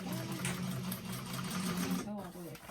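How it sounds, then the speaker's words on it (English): A sewing machine runs steadily, stitching across the bottom of a handbag with a fast, even mechanical hum and rattle, while someone talks over it. "we're going to stitch up the bottom of that bag"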